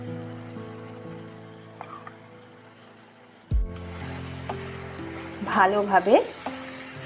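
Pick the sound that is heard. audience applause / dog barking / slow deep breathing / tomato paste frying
tomato paste frying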